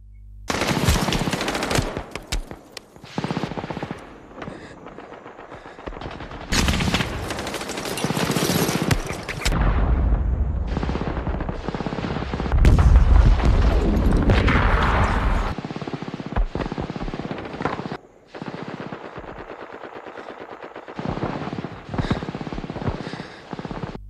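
Gunfire from an ambush battle in the film Saving Private Ryan: loud bursts of machine-gun fire and scattered rifle shots come in waves, with short quieter gaps between the volleys.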